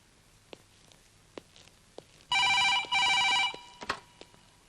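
An indoor telephone bell rings in two bright, shrill bursts, close and loud, while faint footsteps or small knocks sound quietly before and after.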